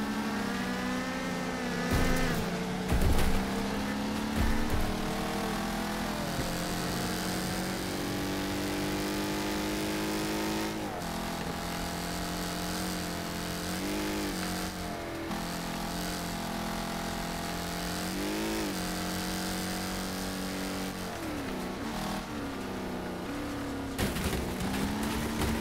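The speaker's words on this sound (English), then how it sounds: "That car behind me sound like a boom bumblebee." A car engine drones steadily behind the player in the Wreckfest racing game, a continuous buzzing hum with occasional surges in revs, fairly quiet and unbroken throughout with no talk.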